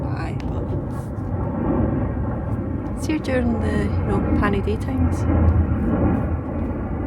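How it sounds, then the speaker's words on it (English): An airplane passes overhead as a low, broad rumble that swells slightly and holds steady beneath a person talking close by. "There's an airplane just going by,"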